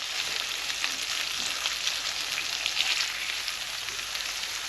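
Duck breast sizzling in a frying pan as its fat renders, a steady bright crackle with scattered pops running evenly throughout and no voices.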